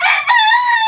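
A gamecock rooster lets out a single loud, close crow, a brief bright call with a short break near its start.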